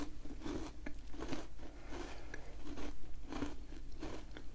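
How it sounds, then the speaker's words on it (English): A crunchy white chocolate chunk biscuit is bitten and chewed up close, with repeated crisp crunches in a steady rhythm, each chew a short burst of crackling. "You've got quite a crunchy biscuit, and it's not like a melt in the mouth type."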